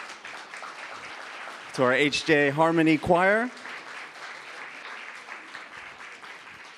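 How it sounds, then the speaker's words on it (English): Audience applause for the HJ Harmony Choir at a True Parents birthday celebration, a steady wash of clapping that runs through the whole stretch while a voice speaks over it in the middle. "Let's give one more round of applause"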